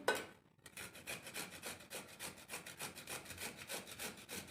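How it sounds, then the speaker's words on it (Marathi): An ingredient is grated by hand to extract juice for a homemade skincare remedy, making repeated close rasping strokes in a steady back-and-forth rhythm of roughly two per second after a brief pause, with no talking. "हे आपण याचा रस काढून घ्यायचा आहे हे किसून घ्यायचं आहे"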